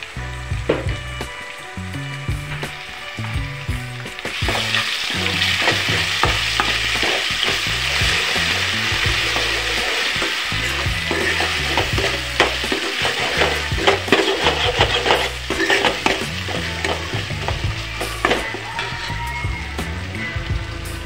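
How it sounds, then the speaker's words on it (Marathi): Ginger garlic paste sautéed with browned onions in a pan for a small fish curry gives a steady, loud sizzle with repeated stirring scrapes and spoon clinks throughout, with no talking. "इथे मी आलं लसूण पेस्ट टाकून घेणार आहे 1 चम्मच आणि ते सुद्धा चांगल्या प्रकारे परतून घेणार आहे"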